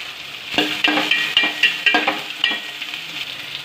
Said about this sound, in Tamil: கடலைப்பருப்பு ஆட் பண்ணுறோம் நல்லா ப்ரௌனிஷாக ஆனதுக்கப்புறம் வெங்காயம் ஆட் பண்ணோம் வத்தல் ஆட் பண்ணுறோம்